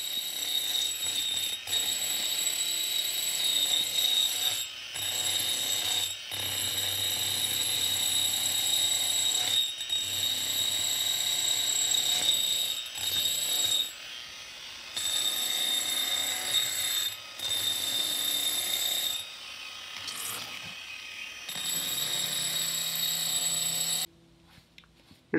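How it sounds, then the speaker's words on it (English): A 30 grit grinder works a rock being shaped into a bowl, giving a steady, loud high-pitched whine that runs continuously, with brief dips and pauses, before cutting off near the end. "Here's the 30 grit grinder"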